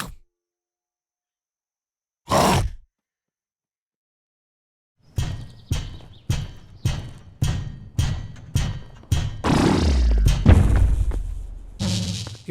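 The Chomper creature from the Unity 3D Game Kit growls: one short burst, a silent gap, then a rapid rhythmic string of clipped snarls that swells into a longer, louder growl near the end.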